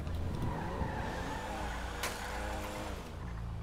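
Cars drive and skid in a video game, a steady engine drone with tire squeal running throughout and a brief sharp burst midway, loud and close with no talk.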